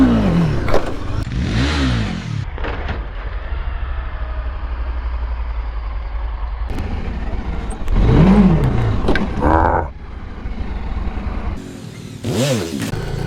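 Motorcycle engine revving hard at night during wheelie practice, several loud throttle bursts rising and falling over a steady close idle, with brief pauses between pulls.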